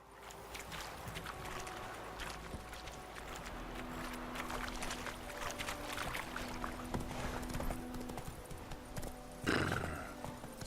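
Hooves of the horse Roach clip-clop steadily along a road in The Witcher 3, a continuous close rhythm of hoofbeats over ambient game sound, with a brief louder burst near the end.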